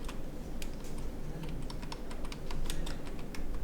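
Typing on a computer keyboard while entering an admission form in MS Word: a steady run of quick, close key clicks with no talking.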